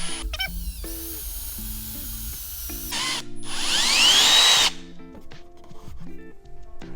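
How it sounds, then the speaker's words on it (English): Power drill boring through the soft plastic of a Fox Body Mustang chin spoiler area, whirring in bursts with a rising, louder grinding whine midway before stopping, then brief clicks and handling noises. "the point on the drill bit will kind of work its way in through the soft plastic"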